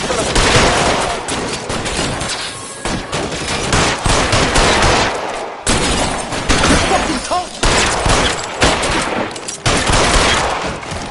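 Dense gunfire in a shootout in the video game L.A. Noire, with rapid overlapping shots and bursts that are loud and nearly continuous, pausing only briefly.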